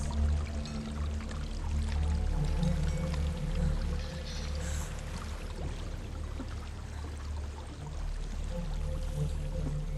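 Waterfall in the video game Hellblade: Senua's Sacrifice, a steady broad rushing pour of water that stays loud and constant throughout with no talking.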